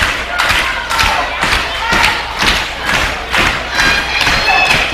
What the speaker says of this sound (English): this crowd getting behind Billy Buck